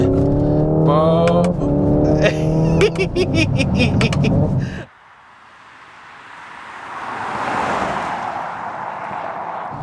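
A Hyundai's synthetic engine sound in manual mode revs in rising, stepped tones with sharp shift breaks, close and loud, then gives way to a broad whooshing drive noise that swells and fades.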